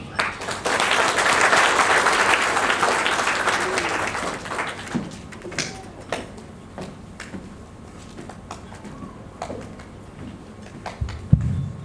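Audience applause welcoming a keynote speaker at an institute event: a dense burst of clapping from a roomful of people fills the first seconds, then thins into scattered claps and a few louder single claps before fading.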